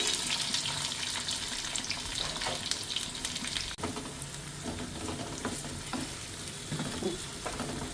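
Chili, ginger, curry leaves and onion fry in a pan for rava upma, giving a steady close sizzle with scattered crackles and faint stirring scrapes throughout, with no voices.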